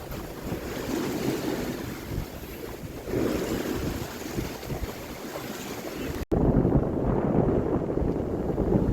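A sailboat motor-sails at sea near sunset, with steady wind buffeting and surf washing along the hull, loud and continuous. A brief dropout leads into a heavier, lower rumble of water and engine.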